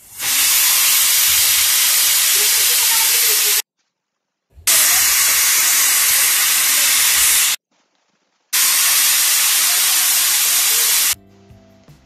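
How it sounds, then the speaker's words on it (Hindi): A pressure cooker of dal on a gas stove vents steam in three loud, sharp hissing bursts of about three seconds each, separated by short silences. "अब मैंने गैस पे कुकर चढ़ा दिया है, अब 3 सीटी आने तक हम इसका वेट करेंगे"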